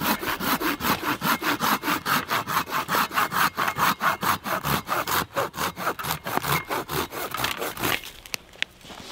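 Steady back-and-forth strokes of a hand saw cutting through wood, rhythmic and close, fading to a few faint scrapes at the end.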